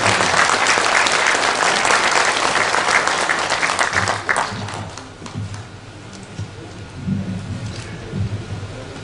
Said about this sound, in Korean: 여러분 조갑재 선생님을 다시 한번 뜨거운 박수로 환영해 주십니다